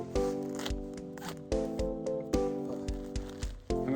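Fallen leaves are cut up for garden mulch with repeated crisp snipping strokes, close and fairly steady in rhythm, with a faint voice now and then.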